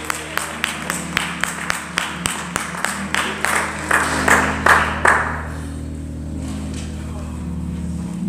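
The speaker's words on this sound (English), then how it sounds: "And let's clap our hands for our Sister Jean." Hands clap in a steady rhythm, quickening and swelling into fuller applause before fading out, with voices and a low background hum.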